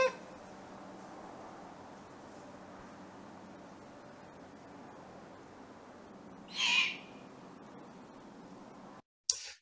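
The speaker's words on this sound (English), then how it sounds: "Now, here is another call by the great horned owl." A single owl call, faint and distant, rises briefly over a steady hiss of background noise, followed by a short sharp click near the end.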